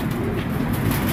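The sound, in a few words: Teddy breed highflyer pigeon cooing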